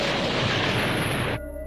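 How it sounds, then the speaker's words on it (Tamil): Cartoon explosion of planets in a Tamil animated series: a dense, loud roaring blast that holds for over a second and then cuts off abruptly into a quieter tonal tail. "இன்னும் சில கிரகங்கள் வெடிச்சிருது."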